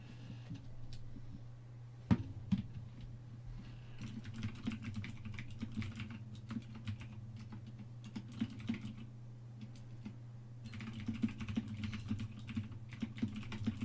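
Fingers type on a Razer mechanical keyboard in close, clicky bursts of rapid keystrokes with short pauses between, over a low steady hum.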